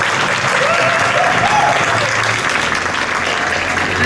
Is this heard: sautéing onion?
no